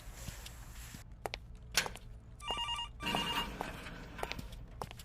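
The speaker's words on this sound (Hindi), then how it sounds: "ये फोन भी इसी टाइम पे बजना था।" A telephone rings in bursts in an office waiting area, its bell tones repeating amid footsteps and light room noise, with no talk over it.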